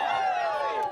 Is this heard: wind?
no